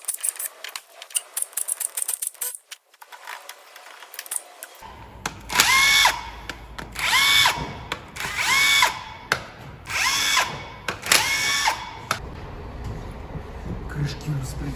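A power tool whirs in repeated short bursts, about five, as it unscrews the camshaft gear bolts on a Volvo FH460 truck engine, close and loud, with ratcheting between bursts and a voice speaking during the work.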